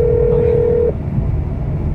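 A phone dials out during a casual outdoor livestream in a moving car: one steady tone holds for about a second, then cuts off, leaving low road and cabin rumble.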